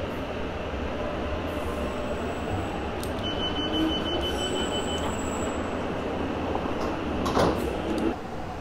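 A London Underground Jubilee line train in Train Simulator 2020 rumbles steadily at a station, with a continuous low roar, faint high whines and brief squeals near the end.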